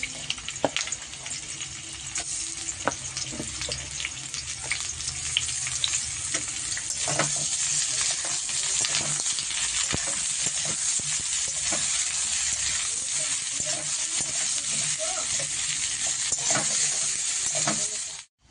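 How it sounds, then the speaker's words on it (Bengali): Potatoes and onions fry in a pan, giving a steady close sizzle with intermittent crackles and stirring clicks before it cuts off abruptly. "আলু পেঁয়াজ ভাজা হয়ে গেছে"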